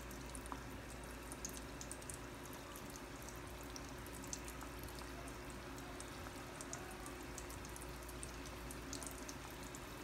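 Balushahi sweets frying slowly in oil over a low flame, a soft, steady bubbling and fizzing with scattered tiny pops, quiet and continuous throughout.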